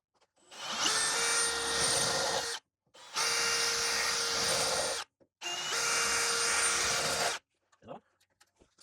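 A power drill bores out spot welds on a Ford Festiva core support in three long, loud, steady whining bursts separated by short silences, followed by a few faint clanks.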